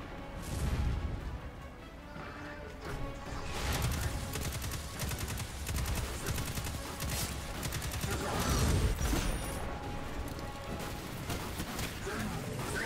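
Rapid gunfire in the Destiny 2 video game, dense bursts of automatic shots and heavy impacts layered with mechanical clatter, continuous and loud while a voice talks underneath.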